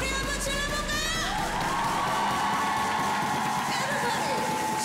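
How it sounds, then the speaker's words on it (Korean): Concert audience at a trot dinner show shouting and cheering together, a sustained roar of many voices with rising whoops and a singer's voice gliding over the crowd. "자, 여러분 다 같이 소리 한번 질러볼까요?"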